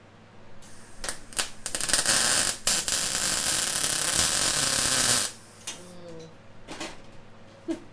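Welding on a metal helmet crackles and buzzes close by. Sharp pops come first, then a harsh sustained crackle for about three seconds, and the sound stops abruptly.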